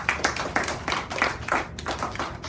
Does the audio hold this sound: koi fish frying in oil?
no